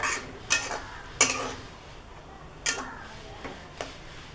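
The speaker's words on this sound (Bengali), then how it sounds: "এখন পাতাটা ঢেলে দিব। এইভাবে নেড়ে ছেড়ে খানিকক্ষণ রেখে দিতে হবে।" Moringa leaves are stirred in a pan for a mashed bharta, with a handful of sharp, separate clicks and taps of a utensil against the metal between quiet pauses.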